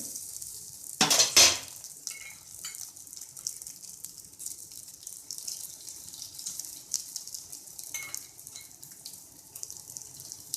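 Potato snacks fry gently in oil on low heat, a soft continuous sizzle with a brief louder crackle and spatter near the start, heard close with no talk.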